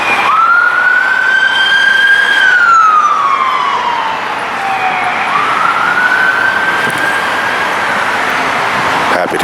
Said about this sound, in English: another siren, another ambulance siren would wail by